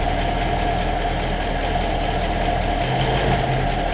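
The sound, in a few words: V8 car engine idling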